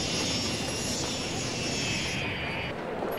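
A Lufthansa airliner takes off in the city-building game Cities: Skylines, a steady broadband jet roar with a high whine that fades partway through, loud and continuous with no talking.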